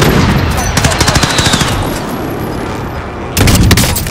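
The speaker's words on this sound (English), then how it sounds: "Friendly precision airstrike inbound" Airstrike in the Warzone video game: a loud burst of rapid gunfire-like cracks and booms, a denser stretch early on, a sustained rumbling roar through the middle, then another loud salvo near the end.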